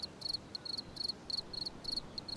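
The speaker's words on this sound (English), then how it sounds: "the crickets are not in today" Crickets chirp in rapid, pulsing bursts, a steady high trill repeating in short clusters at moderate volume with no voices.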